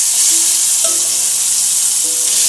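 Raw mango pieces fry with curry leaves in a hot pan, giving a steady, loud, close sizzle throughout, with a few faint tonal clinks and no talking.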